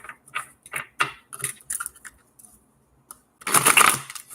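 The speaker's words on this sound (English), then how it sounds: "ooh, that was a raggedy shuffle." A new, stiff deck of playing cards is shuffled close up, with a series of sharp irregular clicks and riffles, a brief pause, then a dense, louder ripple as the cards bridge together.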